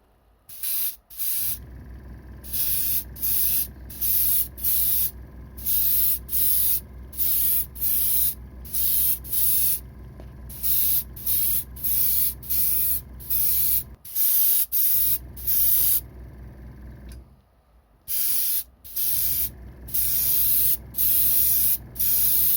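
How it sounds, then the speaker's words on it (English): Bursts of airbrush spray hiss, loud and close, repeating in short on-off pulses with brief pauses between, no voices, while painting a restored Matchbox Lesney Ford Corsair die-cast model car. "I'll get that hooked up and we'll spray the car."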